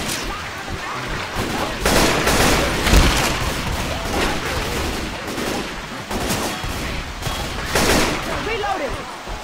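Gunfire in the video game Left 4 Dead 2 during a mill escape level, with dense bursts of automatic shots and booms running throughout, mixed with game noise and voices.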